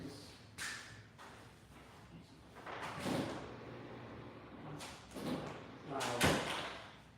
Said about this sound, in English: Let me open up my door here.